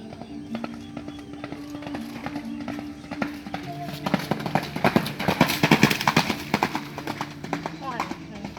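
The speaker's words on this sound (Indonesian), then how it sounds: "satu kuda berlari dengan kencang full" Rapid hoofbeats of a galloping racehorse pound along a racetrack during training, growing louder and busier midway, with an engine hum and voices in the background.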